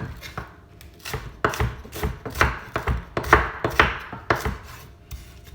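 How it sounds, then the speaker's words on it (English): A knife chops onion on a cutting board in a steady run of about fifteen crisp, close strikes, some landing in quick pairs, while a roasted pepper and tomato soup is being prepared. "So chop your onion,"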